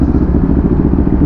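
A Honda Click 125 scooter idles and revs through its exhaust close by, giving a loud, steady, throbbing low engine rumble.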